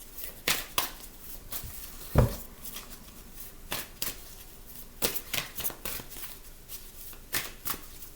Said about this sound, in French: Allez, un tirage à 9 cartes.